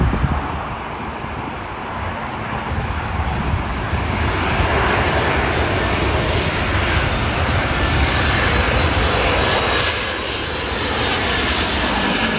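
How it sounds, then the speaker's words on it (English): An Asiana Cargo Boeing 747-400 arrives at O'Hare from Anchorage, its engines a loud, broad roar that builds and holds steadily close by with some wind noise, no voices. "Asiana cargo arriving in from Anchorage"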